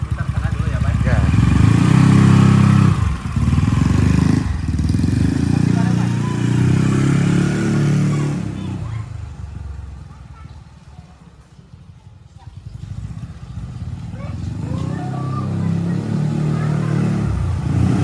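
A modified Yamaha Mio scooter with an aftermarket exhaust pulls away and is ridden, its engine droning loudly up close, fading as it moves off, then returning and building again, with someone talking intermittently.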